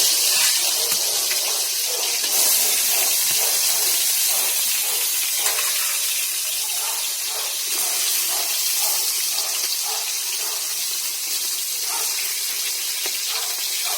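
Koi fish seasoned with salt and turmeric hiss and sizzle in hot oil on a stove, a steady loud broadband frying crackle with small popping bursts throughout, no talking.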